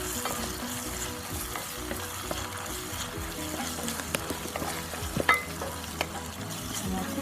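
Ginger garlic paste with green and red chili sizzles and fries steadily in a hot pan while a spoon stirs it, with occasional scraping knocks rising above the constant crackle, close and fairly loud.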